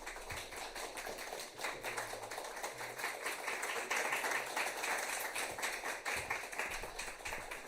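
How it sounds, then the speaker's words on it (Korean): A church congregation claps warmly during an infant baptism service as a children's Bible is presented, dense soft applause filling the room steadily for several seconds with no talk over it. "따뜻한 박수로 다시 한번 축복해 주시겠습니다"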